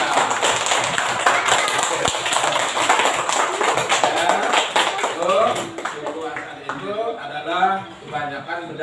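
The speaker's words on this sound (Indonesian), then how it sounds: "Ya, tepuk tangan." Classroom of students clapping hands, a dense patter of applause lasting several seconds before fading into a teacher's voice speaking and a few scattered noises.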